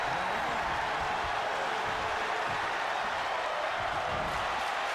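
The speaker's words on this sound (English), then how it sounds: "The crowd is screaming" A wrestling crowd at a Covenant Pro Wrestling show keeps up a dense, loud roar of cheering and applause throughout, with a commentator's voice mixed faintly into the din.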